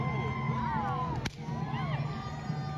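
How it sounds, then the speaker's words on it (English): Whips crack at an outdoor event where half-naked men whip each other in front of watching children, one sharp loud crack cutting through a continuous crowd din with shouting. "Oh, there's the whips."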